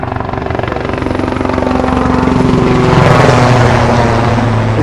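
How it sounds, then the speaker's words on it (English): Steady, loud rotor drone of helicopters passing overhead at the Cherry Blossom Festival in Washington DC, swelling slightly louder midway with a rhythmic chop, no voices. "These helicopters have been non-stop flying over."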